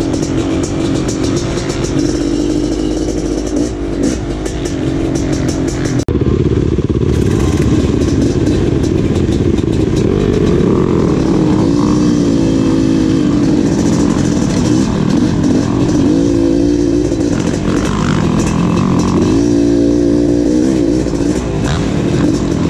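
A BRC 500 enduro motorcycle engine runs loud and close, its note rising and falling through repeated revs with a rough, clattering edge, and no talk over it.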